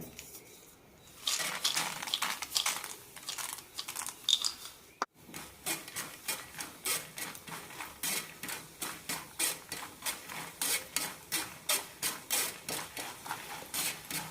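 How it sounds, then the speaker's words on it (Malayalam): Peanuts roasting in a pan for a flattened rice (poha/aval) snack mixture, a steady run of rhythmic scraping and rattling strokes as they are stirred, close and fairly loud, with no talking. "ഇനി കുറച്ച് നിലക്കടല കൂടി വറുത്തെടുക്കാം"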